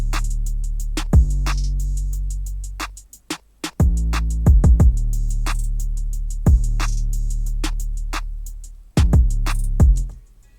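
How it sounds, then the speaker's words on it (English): A deep, sustained 808 bass plays under a simple drum beat with kick and hi-hat-like hits, long booming bass notes gliding and decaying between kicks in a loud, steady trap-style loop. "And then finally I added the 808 and it sounds like that."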